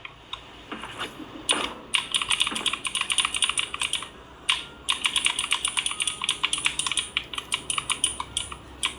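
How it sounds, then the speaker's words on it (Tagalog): Rapid clacking of a computer keyboard during a live stream, dense bursts of keystrokes close to the microphone with brief pauses between flurries. "Malakas yung rinig ng keyboard."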